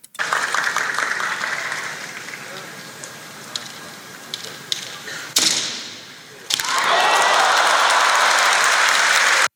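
Spectators fill a kendo match with a steady, loud wash of broadband crowd noise, with scattered thumps and a brief dip before the din surges back even louder.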